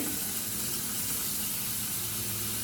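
Bacon and vegetables fry in a pan with a steady, close, continuous sizzle and hiss, with no talking over it.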